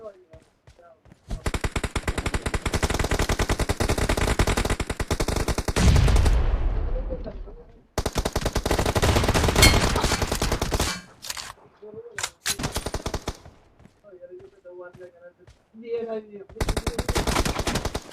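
Rapid automatic M416 rifle fire in the PUBG Mobile arena team deathmatch, loud sustained bursts lasting several seconds, broken by short pauses and quieter stretches, then a final burst near the end.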